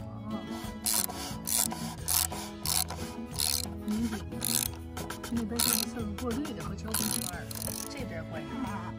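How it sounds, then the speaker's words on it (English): An oil drain plug is tightened under a Jeep during an oil change: repeated close rasping ratchet-and-wrench strokes in uneven bursts, with voices faintly in the background. "I'm just tightening it down"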